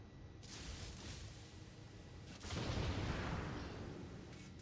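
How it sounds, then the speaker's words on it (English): A battleship's gun salvo in World of Warships, two deep booming blasts heard at a distance, each trailing into a long low rumble. "He got the 7k salvo"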